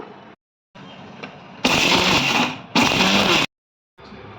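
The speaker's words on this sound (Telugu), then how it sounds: "మిక్సీ చేసుకుంటాను." A mixer grinder grinding roasted garam masala spices runs in loud bursts with abrupt starts and stops, the motor whirring harsher as the pulses build, with no voices.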